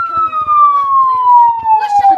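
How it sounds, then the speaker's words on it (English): A police siren in a Gorilla Tag game wails loud and close in a long, slowly falling tone, with players talking over it. "You hear that, sirens?"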